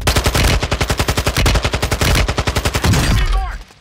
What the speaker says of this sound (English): I shot him and I ran out of ammo